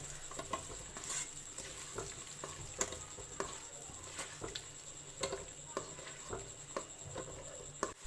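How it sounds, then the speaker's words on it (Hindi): Two sliced onions frying to golden in oil in a kadai, a faint continuous sizzle with light scattered crackles and occasional soft stirring taps throughout. "इनको डाल दूंगी और इनको मैं करूँगी गोल्डन फ्राई"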